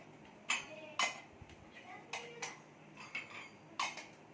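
Ceramic plates and bowls handled in a home kitchen, a series of sharp clinks and knocks spaced irregularly, close and fairly quiet against a low background, with speech nearby.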